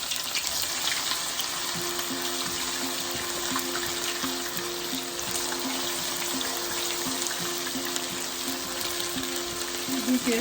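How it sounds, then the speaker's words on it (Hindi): Soya chunks fry in hot oil in a pan, a steady broadband sizzle and crackle running unbroken throughout with a faint low hum beneath it and no talking. "इस हम सोया चंक को उसमें फ्राई करेंगे।"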